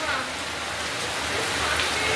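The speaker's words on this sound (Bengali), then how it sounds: "এই দেখুন কি পরিমাণ বৃষ্টি হচ্ছে আর বিদ্যুৎ চমকাচ্ছে" Heavy rain hammers down close by in a thick, unbroken roar during a lightning storm, with no distinct thunderclap.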